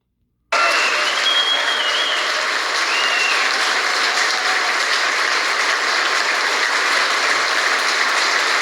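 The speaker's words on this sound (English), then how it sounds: "as you could hear them going into applause after she made her final comments there" Sustained audience applause filling a room after a woman's final remarks at a gathering with no PA system, steady dense clapping starting abruptly and continuing loud and unbroken throughout.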